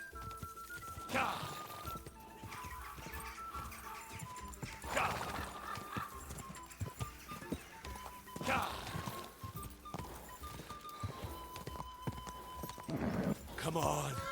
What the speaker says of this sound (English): O cavalo dele é rápido